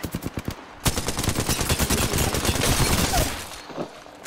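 Rapid automatic fire from an Alternator SMG in Apex Legends, a short burst of distinct shots followed by a long sustained loud stream of rounds that tapers off near the end.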